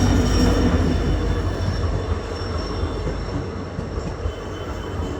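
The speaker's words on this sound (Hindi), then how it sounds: "यहाँ पे देख सकते हो ट्रेन आने वाला था।" A train rumbles in close by, a loud, steady roar of rolling wagons with faint wheel squeal, fading slightly over a few seconds.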